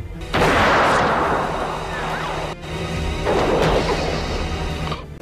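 Two loud, sharp sniper rifle gunshots in a film, the first followed by a long rumbling tail, the second echoing more softly a few seconds later.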